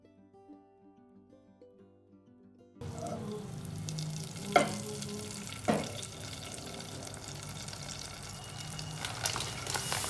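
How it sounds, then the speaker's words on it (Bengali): Semolina roasting in melted butter in a saucepan for a semolina sweet, a soft continuous frying crackle with a couple of sharper scrapes of stirring, starting abruptly after a quiet opening of low background tones. "বাটারটা গলে যাওয়ার পরে আমি এর মধ্যে সুজিটা দিয়ে তারপর সুজিটা ভেজে নেব।"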